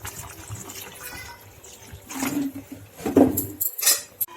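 Water is poured from above into a pot of vegetable curry with boiled taro, potato and Malabar spinach stalks, making a brief splashing trickle with clinks of pot and utensil, fairly quiet and close.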